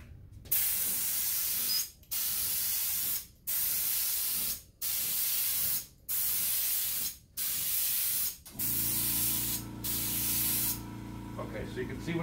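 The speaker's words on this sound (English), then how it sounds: "I'm spraying about 6 inches or so off each end of the furniture" A paint sprayer hisses as it sprays paint onto a piece of furniture, in about seven loud, steady bursts separated by brief pauses, followed by quieter handling noise at the end.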